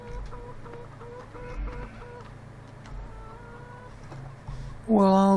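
Chickens clucking in a Farming Simulator 15 farmyard, a steady murmur of short clucks and calls running throughout, with a louder burst of higher squawks near the end.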